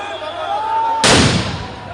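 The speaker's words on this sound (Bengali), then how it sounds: "গ্রেনেড মারতেছে প্রশাসন" A sound grenade detonates during street unrest in Dhaka: one sudden loud broadband blast that rings out and decays over about a second, following a stretch of crowd noise and voices.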